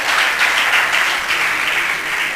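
An audience at a competition event claps in dense, steady applause that stays loud and even for a couple of seconds, with no speech over it.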